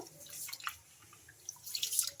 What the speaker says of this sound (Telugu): ఇంకా ఇప్పుడు ఈ వాటర్ని అయితే వంపేస్తున్నా